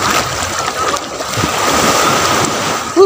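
Sea surf washes steadily along a shore, a continuous broad hiss of breaking waves that stays fairly loud and even throughout, with a brief louder burst right at the end.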